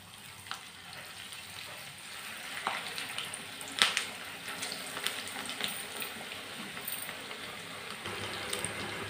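Chicken pakodi (cashew chicken pakoda) fries in hot oil, giving a steady, soft sizzle with scattered crackles and pops close by, and no talking.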